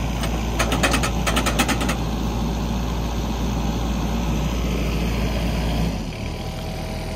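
A Yanmar Vio57 excavator runs steadily while drilling with an auger attachment on a rototilt, a constant close engine and hydraulic drone with a brief rhythmic rattling early on, dropping slightly in pitch near the end.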